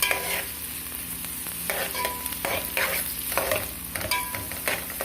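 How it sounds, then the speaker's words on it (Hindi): Three green chilies frying in a pan while making macaroni at home, a constant close sizzle with repeated scraping stirs, with no voices. "अब इसको भी हम थोड़ी देर के लिए भून के रख देंगे।"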